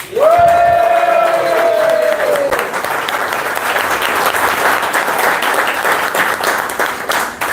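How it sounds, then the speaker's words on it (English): An audience claps for a speaker at a society's events-team meeting: a loud, dense burst of applause that fills the room and stays steady, with a brief whistle-like tone at the start. "And can we get a round of applause for Tara?"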